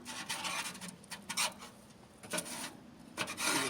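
Caked carbon is scraped and raked off the inside of a smoker, giving quiet, irregular bursts of gritty scratching and rasping strokes up close, with no voices.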